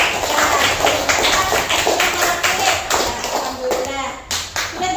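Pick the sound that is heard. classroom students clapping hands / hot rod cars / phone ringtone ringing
classroom students clapping hands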